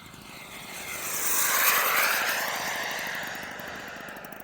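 A propeller-driven light airplane comes down the runway to land, its engine drone swelling to a peak and then easing off, with no talk.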